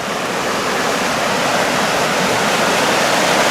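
River rapids rush in a loud, continuous roar of turbulent water, steady and close, with no voices over it.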